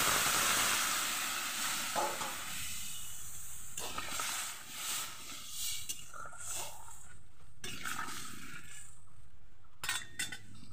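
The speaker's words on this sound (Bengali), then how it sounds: "এবার আমি জল দিয়ে দিচ্ছি।" Water poured into spice masala frying in a pan, with a loud sizzling hiss that flares up and then fades into intermittent crackling bursts, alongside occasional scraping of a utensil.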